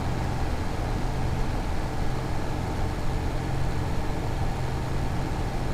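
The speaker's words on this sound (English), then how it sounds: "This tractor's loud." A tractor engine idles in a PC farming game on a UK farm, a loud, steady, unbroken drone with a deep rumbling low end that holds evenly throughout.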